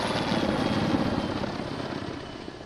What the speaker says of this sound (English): A109 helicopter has just retrieved one of the injured patients